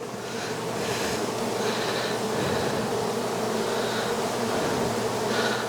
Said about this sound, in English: Check out those bees.